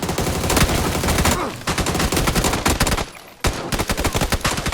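Rapid, loud automatic gunfire in PUBG on the snowy Vikendi map, dense bursts of shots with two brief pauses and no talking.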